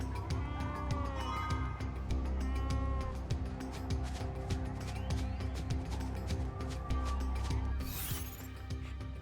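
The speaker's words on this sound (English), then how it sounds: "you're chasing down the sheep for like a full 30 seconds" Sheep bleat in the video game Final Fantasy XIII-2, a few wavering calls rising over dense, steady game music and ambience that run throughout.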